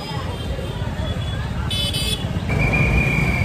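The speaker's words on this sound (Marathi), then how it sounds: "आज वीकेंड असल्यामुळे खूपच ट्रॅफिक आहे" Heavy weekend road traffic near a market in Pune, with a dense rumble of engines, a brief horn toot and a sustained horn tone toward the end, under talk.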